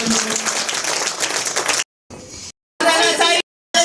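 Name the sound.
congregation clapping loudly for Jesus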